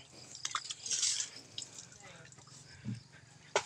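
Water drips and splashes while Bok is bathed, in irregular broadband bursts with a steadier wet rush near the middle and a sharp splash at the end, over low background noise and faint voices.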